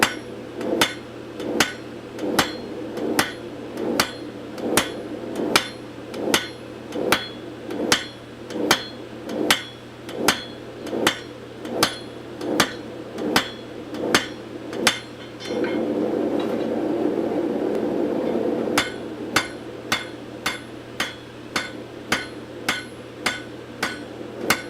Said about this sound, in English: when I work steel on my anvil